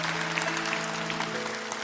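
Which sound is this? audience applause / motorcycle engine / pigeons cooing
audience applause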